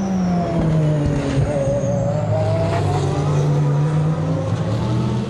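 GT race cars, including a Ferrari, accelerate at Spa Francorchamps during a Supercar Challenge race, a sustained engine roar with rising pitch sweeps, moderately loud against a broadband track ambience.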